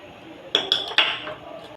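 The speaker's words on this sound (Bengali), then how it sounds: "এখন আমি আমটিকে থালায় ঢেলে নেব।" Raw mango mixed with salt, chopped green chilli and sugar is tipped onto a plate, giving three quick sharp metallic clinks of utensil against dish in a quiet kitchen.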